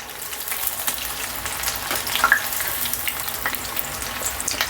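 Green chillies fry in hot oil for chicken pakoda, a close, steady crackling sizzle with sharper pops and spits scattered throughout.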